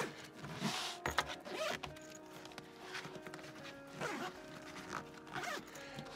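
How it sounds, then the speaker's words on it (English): A zipper runs along a G-Story travel case for an Xbox Series X, several quick rasping pulls in succession, close and fairly quiet with small handling sounds between strokes. "Zip it back up, and you're good to go."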